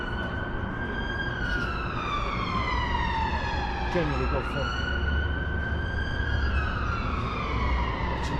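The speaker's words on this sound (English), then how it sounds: "got the sirens going, police moving around," Police sirens wail through Manchester city centre, several overlapping sweeping tones rising and falling over steady traffic rumble, moderately distant and continuous, with someone briefly talking over them.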